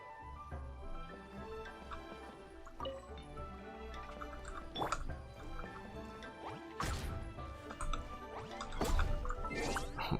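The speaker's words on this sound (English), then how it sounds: "Pour water." Water pouring and dripping while cooking a dish in the Genshin Impact video game, with splashy liquid sounds and a few sharp clanks and knocks over a steady game background.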